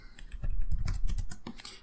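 Rapid, irregular key clicks from typing on a computer keyboard while entering a prompt for a Python chat program, close and fairly loud, with no talking.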